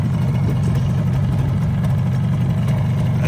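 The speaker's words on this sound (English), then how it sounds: "Engine runs real good." The engine of a 1979 Suzuki X7 motorcycle with its original exhaust idles steadily, a close, loud low putter with even rhythm and no voices.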